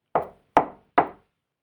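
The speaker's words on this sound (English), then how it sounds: "A loud knock resounded through the house." A house door takes three loud, sharp knocks, evenly spaced about half a second apart, each ringing out briefly before silence.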